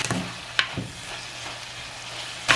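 Long beans sauté in a pan, Jaffna style, with a steady close sizzle and a couple of sharp utensil clicks against the pan.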